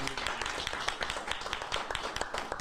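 Steady crowd clapping at a press conference for the ReManned Project, a dense patter of many hands, fairly close and continuous, with no talk over it.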